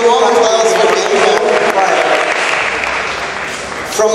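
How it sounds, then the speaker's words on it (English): Audience in Berlin applauds to welcome a guest, close, loud, sustained clapping from a crowd with some cheering and talk mixed in, easing slightly before a final swell. "I hope you want to applause for Gimpo."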